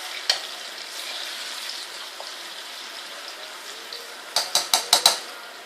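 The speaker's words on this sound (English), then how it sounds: "while that's frying, keep your heat on low" Plantain sizzles steadily in a hot pan, with a cluster of sharp metal clinks from utensils near the end.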